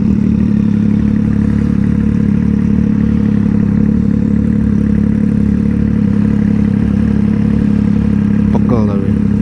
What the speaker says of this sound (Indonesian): knalpotnya ajib sih